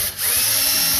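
A power drill whirs loudly and steadily for a moment, close by, pre-drilling into picnic table wood without pause.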